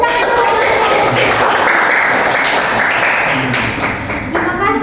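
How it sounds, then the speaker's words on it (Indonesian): A crowd applauds loudly and steadily after a group presentation, a dense wash of clapping that fills the whole moment and tapers slightly near the end. "Luar biasa. Tepuk tangan."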